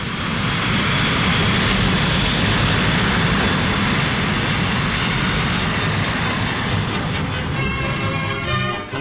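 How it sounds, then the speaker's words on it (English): Saunders Roe A1 jet flying boat alighting on the Thames at Woolwich Reach, its jet engine a loud, steady broadband roar that holds throughout and eases slightly at the very end. "the Saunders Roe A1 came down on the Thames in Woolwich Reach"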